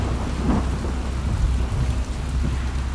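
Thunder rumbles low and steady beneath a constant wash of rain in The Last of Us Part II, a dense stormy roar that fills the whole moment without any break.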